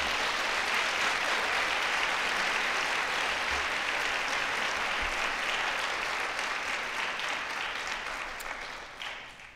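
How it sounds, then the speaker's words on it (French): Audience at a university Faculty of Arts graduation ceremony applauding guests of honour, a dense, steady wash of clapping from a large crowd that holds strong and then thins toward the end. "Applaudissons nos invités d'honneur."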